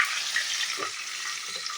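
Fish heads sizzle in a frying pan with a steady, close hiss, broken by a couple of faint low knocks; nobody speaks.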